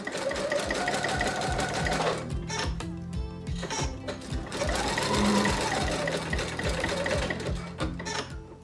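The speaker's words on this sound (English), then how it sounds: "then sewed on the ties with my machine" A domestic sewing machine stitches ties onto a thick bum roll for an 18th-century outfit, whirring steadily and rhythmically for the whole stretch with a fast ticking needle beat, close and clear.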